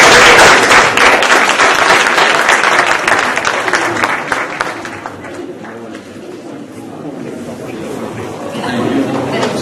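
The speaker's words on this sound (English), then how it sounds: "Let's have a round of applause." Audience applause at a panel event on democracy and human rights, loud dense clapping at first that thins and fades over several seconds, leaving scattered claps and low room murmur.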